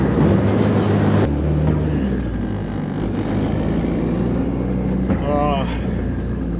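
A turbocharged B20 engine car with a small eBay turbo on 10 psi of boost accelerates hard, its engine droning and rising through a gear change, heard from inside the cabin with people talking over it.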